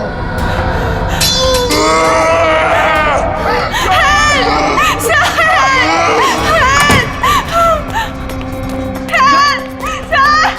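A woman screams in a tense Hindi crime-drama scene about a haunting, with loud, wavering high cries rising and falling over crowd babble and other voices.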